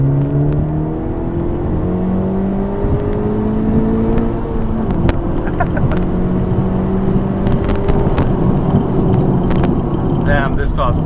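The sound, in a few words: Honda Civic Type R FK8 engine accelerating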